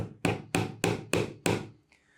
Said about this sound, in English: And then you can go ahead and tack in a first nail.